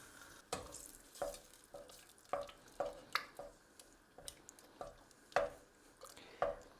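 Flapjack mixture melting in a pan on a home stove, giving soft stirring scrapes and gentle sizzling in irregular bursts, fairly quiet and close, with no talking.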